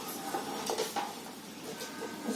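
Brinjal curry stirred in a cooking pot gives soft, irregular scrapes and light clinks of a spoon against metal, fairly quiet and close, without speech.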